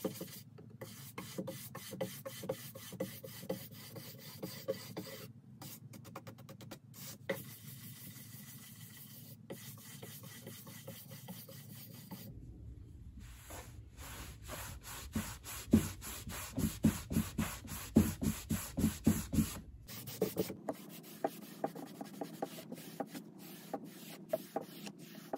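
Wax is rubbed by hand onto a painted Jacobean wooden buffet in repeated soft, rasping strokes, quiet and close, in bursts with brief pauses between passes.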